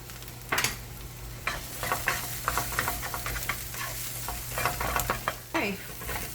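Onions and garlic fry in a pan with a steady low sizzle, broken by repeated clacks and scrapes of stirring at irregular intervals, close by, with no voices.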